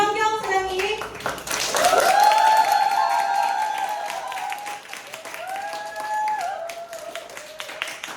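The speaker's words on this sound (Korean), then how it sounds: "큰 박수로 맞이해 주시기 바랍니다" An audience at a business lecture event in Pohang claps and cheers to welcome a guest speaker. A broad, sustained wash of applause swells in over tonal music and stays moderately loud throughout, with a few voices mixed in.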